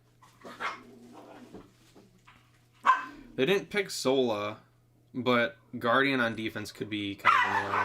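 Two schnauzers barking and yipping at each other as if fighting, in short sharp bursts close by, mixed with someone talking over them during a gaming stream.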